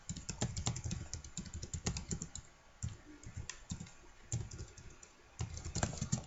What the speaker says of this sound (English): you can type your username and your password